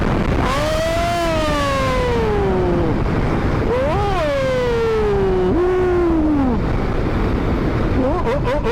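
Suzuki Hayabusa motorcycle ridden along an open road, its engine tone climbing and falling in long sweeps as it accelerates through gears, loud and close under steady wind rush.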